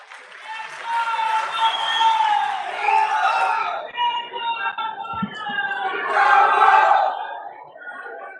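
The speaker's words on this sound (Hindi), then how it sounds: "आप बहुत तालियां बजा रहे थे" Crowd at a political rally in Rajasthan, cheering and chanting in loud swelling waves of many voices, with a brief dip midway.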